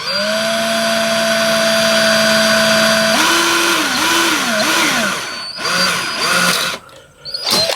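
IRONMAX cordless right angle drill boring holes in aluminum, a loud steady motor whine that shifts pitch repeatedly as it bites into the metal, then stops and restarts in short bursts.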